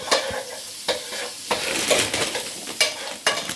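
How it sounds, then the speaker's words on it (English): Stuffed chicken and vegetables sizzle and crackle steadily in a hot frying pan, with a few sharp scrapes and taps of a utensil stirring through them. "Oh, it's sizzling away nicely."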